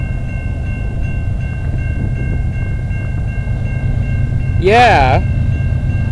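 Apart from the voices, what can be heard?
CN freight train M396 passing, Canadian Pacific locomotive leading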